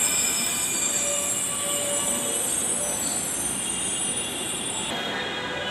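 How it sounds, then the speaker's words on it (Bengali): A Dhaka metro rail train passes through a station from Motijheel heading north. Its wheels squeal loudly and steadily with high metallic tones over a dense rumble, close by and continuous, with no talk. "এই মেট্রো রেল এখন মতিঝিল থেকে উত্তরে যাবে।"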